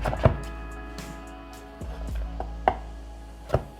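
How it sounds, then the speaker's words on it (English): A knife slices through crushed garlic cloves on a cutting board, giving a few sparse, crisp chops spaced a second or so apart over a steady low background hum. "Then you take 2 cloves of garlic, just crush it and slice it into nice fine pieces"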